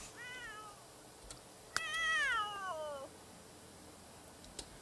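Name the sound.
cat meowing in video game The Sims 3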